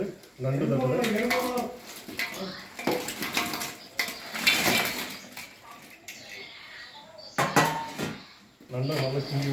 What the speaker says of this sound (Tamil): நல்லா கிண்டி விடுவோம்.